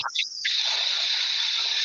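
Fuel sprayed into a generator carburetor gives a loud, steady hiss that runs continuously after a few short bursts at the start, close to the microphone.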